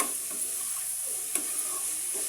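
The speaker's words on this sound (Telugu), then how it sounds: "సాల్ట్ కూడా వేసుకున్నాం బాగా కలుపుకుందాం ముక్కలకి పట్టేలాగా" Salted cauliflower pieces are stirred in a hot pan for a cauliflower curry, giving a steady soft sizzle with a few light scraping clicks of the spoon, close and alone with no talking.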